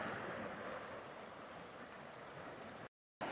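Water flows gently along the edge of a long mud seal in a restored stream. The soft, steady rushing stays faint and even throughout, with a brief dropout near the end.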